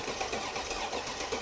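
The starter of a 500 hp Mercedes CL55 AMG that sat for seven years cranks with an uneven, rhythmic churning, faint and muffled throughout.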